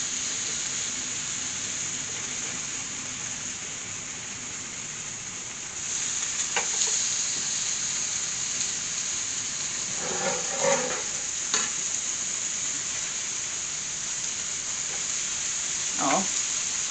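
Sausages sizzling in a frying pan give a steady, moderate hiss that grows louder partway through, with a few brief scraping clicks from turning them.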